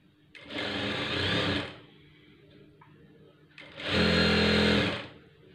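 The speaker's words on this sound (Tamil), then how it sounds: "மடிச்சுட்டு இப்படி ஒரு தையல் போட்டுக்கலாம்." Sewing machine stitching a folded bias strip for a blouse neckline, running in two loud, close bursts of about a second each separated by a quieter pause with faint handling noise.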